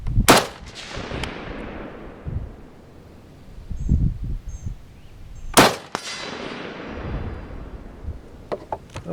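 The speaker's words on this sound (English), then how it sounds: "So, I'm going to attempt to shoot them." Gunshots ring out at an outdoor range aimed at distant steel target plates: two loud, sharp cracks several seconds apart, each followed by a long rumbling decay, with faint handling noise in between.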